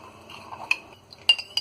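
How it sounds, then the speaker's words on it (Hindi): A metal spoon stirs salt into a cup of water in a bowl, with faint scraping and a few sharp, close clinks against the bowl's side. "1 चम्मच हम इसमें नमक डालेंगे और इसे अच्छी तरह हम मिक्स कर लेंगे।"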